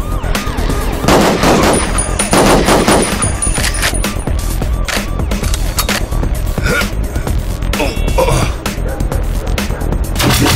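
Rapid gunfire from the Duke Nukem: Manhattan Project shooter game, dense bursts of automatic shots and loud crackling reports filling the whole stretch, with a brief high electronic tone near the start.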